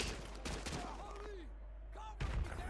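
Enemy gunfire comes from a garage in Modern Warfare 2 Remastered, with bursts of rapid shots at the start and again near the end, a quieter gap between and whistling sweeps in the middle.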